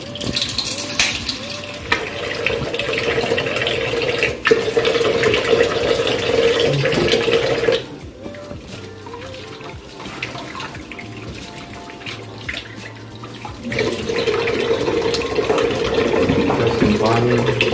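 Tap water gushes into a kitchen sink as dishes used for sambal are washed, a steady splashing rush that cuts off for several seconds in the middle before running again, close and loud.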